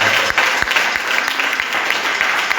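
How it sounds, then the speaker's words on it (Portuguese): A church congregation at a family worship service gives a loud round of applause, dense continuous clapping close by with a few sharper individual claps poking through. "Vamos aplaudir a Jesus com uma salva de palmas."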